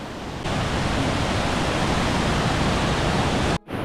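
Rushing river water beneath a wooden log bridge gives a steady, dense roar that swells in after a moment, holds loud and even, then cuts off abruptly near the end.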